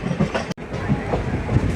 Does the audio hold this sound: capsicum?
no